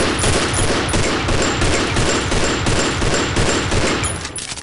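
Loud, sustained automatic gunfire rattles without pause in the video game Postal, dense rapid bursts that taper slightly at the end.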